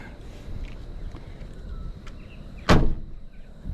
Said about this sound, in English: Let's see if the door will shut.